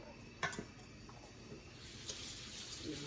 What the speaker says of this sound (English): Rinse our hands again, and then we're going to get these in the oven.